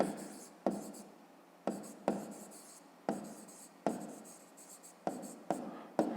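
A pen writes on paper in a math lesson, about seven quick scratching strokes, each starting sharp and fading, close and alone with quiet gaps between.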